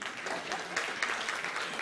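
Applause from a forum audience at a hybrid stakeholder engagement event, a short burst of fairly faint, scattered clapping in a room, no clear speech.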